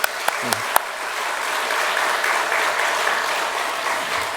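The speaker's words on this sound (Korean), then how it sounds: "우리 잘 살으라고 또 축복 박수하겠습니다" A few sharp knocks give way to sustained, even applause from a church congregation during a Sunday service, continuing steadily throughout.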